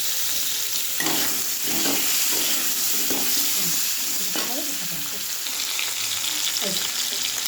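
Potato sizzles steadily in hot oil in a pan, with a constant bright frying hiss and intermittent scraping stirs of a utensil.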